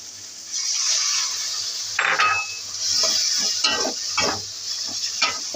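Ridge gourd is stirred in a pan with added water, a soft, steady sizzle and bubbling under repeated scraping and clinking strokes of a spatula against the pan, close by.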